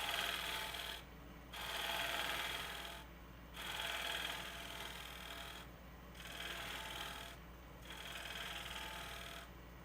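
Bowl gouge cutting an outflowing foot on a live edge wooden bowl spinning on a wood lathe, giving a rhythmic rasping scrape that swells and eases in regular passes over a low motor hum.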